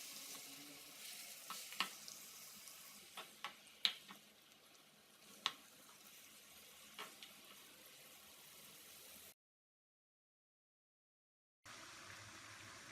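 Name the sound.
mutton frying in ghee in a karahi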